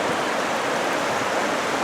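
Deep, swift, ice-cold stream running on a cold, rainy day, giving a steady broadband rush of water that stays even and fairly close, with no voices over it.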